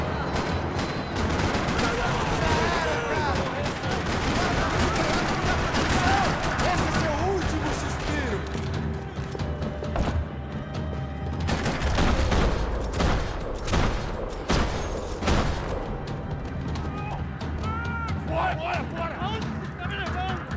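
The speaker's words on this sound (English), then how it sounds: "Another parking lot rattling with gunfire." Sustained bursts of automatic gunfire and scattered shots echo through a parking lot during a Max Payne 3 shootout, loud and dense with brief lulls, mixed with game music and effects.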